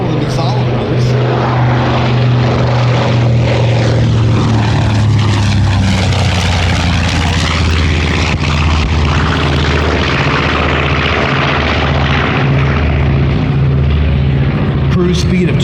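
P-51 Mustang warbird, the last and ultimate model built, flying at the Rumble Over the Redwoods airshow: a loud, continuous propeller engine roar with a deep throbbing drone that dips and rises in pitch, with a voice talking over it.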